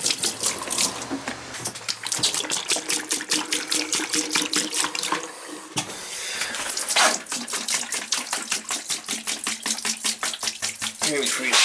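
Water runs from an open faucet in a three-season cottage being winterized, a steady splashing gush with a quick rhythmic flutter and a brief dip partway through; a voice talks over it.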